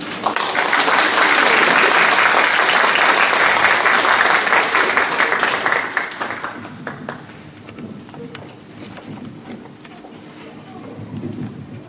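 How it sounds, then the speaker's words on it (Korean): A crowd breaks into loud, sustained applause welcoming a speaker, gradually thinning out into scattered clapping and quieter room noise. "이제 이종규 교장선생님 나오실 때 환영의 박수로 맞으면 감사하겠습니다"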